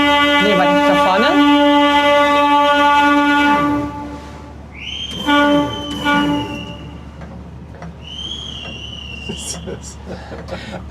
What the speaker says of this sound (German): macht die Sicherheitspfeife